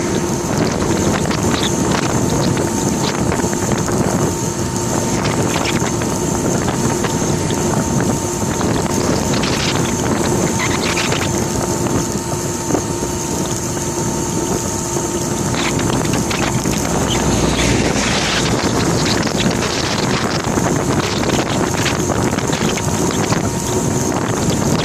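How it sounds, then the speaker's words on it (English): A strong headwind roars across the microphone while a home-made electric bike is ridden toward a beach, a loud, constant buffeting rush with a steady hum underneath. "We're going straight into a headwind."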